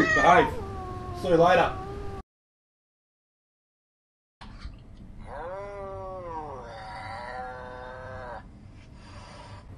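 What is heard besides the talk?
cat meowing and yowling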